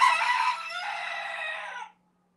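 A single rooster crows loudly and close by, one sustained, strained cock-a-doodle-doo of about two seconds that breaks off into silence, with no other sounds around it.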